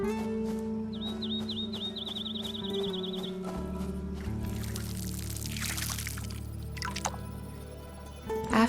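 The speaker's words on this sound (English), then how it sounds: "Then I watered the beet seeds." In the video game Fractured Blooms, beet seeds are watered with soft pouring and dripping splashes over gentle background music and chiming tones, with no one speaking.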